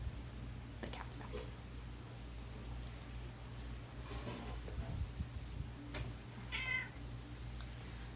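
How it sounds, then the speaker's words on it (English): Indoors, a cat gives a few faint meows, the clearest near the end, over a steady low hum, with soft ticking and light rustling in between. "The cat's back."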